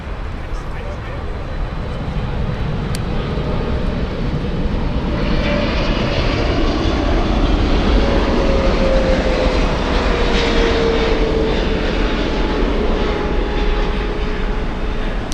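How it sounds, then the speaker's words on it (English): A China Southern Cargo freighter arriving from Shenzhen rumbles steadily overhead on approach at Frankfurt airport, a loud, continuous engine roar that swells and holds for the full stretch, with a few quiet voices chatting over it. "Big one coming in. China Southern Cargo flying in from Shenzhen."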